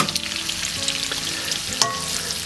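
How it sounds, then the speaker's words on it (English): Carrots and sweet potato sizzle and fry in a hot pan on high heat, a steady crackling hiss with a few stirring scrapes and no talking. "Right in with our carrots and our sweet potato. And what we're looking to do here is just get some char on them."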